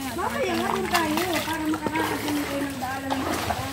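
Water splashes and swirls as people wade across a river on the way to a waterfall, a constant rushing wash under lively talk and children's voices.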